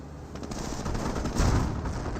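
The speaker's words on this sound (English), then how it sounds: "Hellcat now designed to fire away against the Grenadiers." A Hellcat tank destroyer in Company of Heroes fires on Grenadiers, heard as a dense, continuous rattle of rapid gunfire with a low rumble that swells briefly midway.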